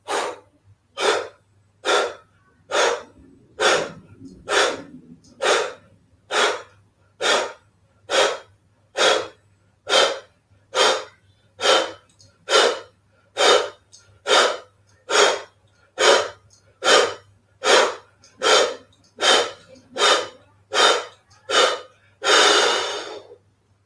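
Rapid, evenly spaced nasal breath pulses during a yoga breathing exercise, about two dozen sharp rhythmic huffs in a steady train, close and alone with no talking.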